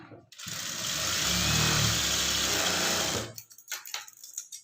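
A sewing machine runs steadily for about three seconds while stitching the band on a blouse, then stops. Faint handling noises follow.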